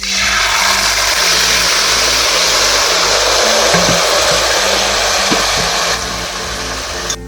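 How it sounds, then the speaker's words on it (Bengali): Chicken meat hits hot frying spices with a loud, dense, close sizzle that holds steady for several seconds before easing slightly near the end, with a few faint knocks. "মশলা ভালো করে ভাজা হয়ে গেছে, এবার মাংসগুলো দিয়ে নিচ্ছি।"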